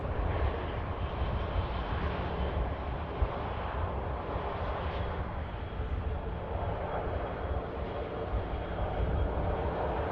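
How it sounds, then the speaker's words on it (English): EasyJet airliner arriving at Manchester Airport, a steady broad roar of jet engines that stays loud and constant throughout with no talking. "We have just had an EasyJet arrival."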